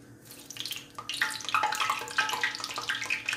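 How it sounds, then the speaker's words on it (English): Water crackles and fizzes in hot frying grease before a roast is cooked, a steady sputtering sizzle with scattered sharp pops, fairly close and continuous. "See if the water jump, pop, fizzle, and sizzle."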